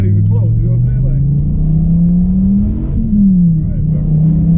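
A Dodge Viper engine revs steadily upward toward about 6,200 RPM, a loud, close, continuous growl that peaks and then drops back briefly, with people talking over it.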